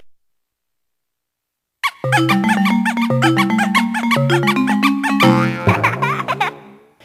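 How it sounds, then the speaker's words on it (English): A Nintendo GameCube startup with the Z button held: a burst of bouncy, boinging electronic tones tumbles in quick succession, then gives way to a short high-pitched child's giggle at the end. "if you hold the Z button while it's starting up, you get these random noises and then a child's laughter"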